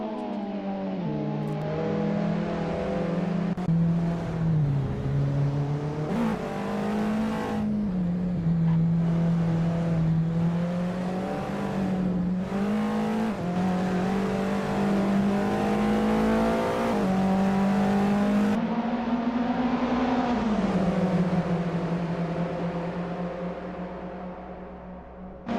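TCR touring cars race at Silverstone in a video game, engines roaring loud and constant with pitch rising and falling through gear shifts as several cars run close together through a corner.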